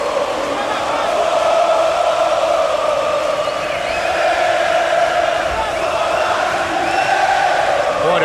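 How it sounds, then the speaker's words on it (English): A large arena crowd at a UFC 134 fight in Rio de Janeiro keeps up a continuous roaring wash of voices with swelling cheers, while a commentator talks over it. "What a great crowd here in Rio de Janeiro."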